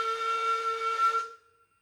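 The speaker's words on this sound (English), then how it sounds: "I quite like the Southern Region whistle," A Southern Region train whistle plays through speakers, a clear steady two-tone steam-style whistle held for over a second before cutting off and fading quickly into silence.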